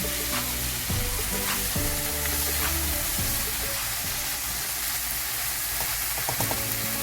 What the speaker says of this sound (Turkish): Domateslerimizi güzelce soteledik.